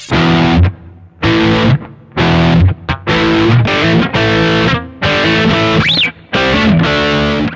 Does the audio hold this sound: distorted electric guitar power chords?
yes